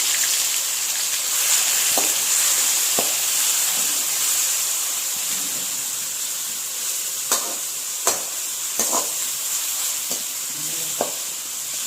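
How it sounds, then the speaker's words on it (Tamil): Cinnamon, cloves, cardamom and ground shallots sauté in hot oil with a loud, constant crackling sizzle, broken by occasional clicks and scrapes of a stirring spoon. "எண்ணெய் விட்டுட்டு அதோட பட்டை கிராம்பு ஏலக்காய் அதெல்லாம் போட்டு நல்லா வதக்கிக்கலாம்"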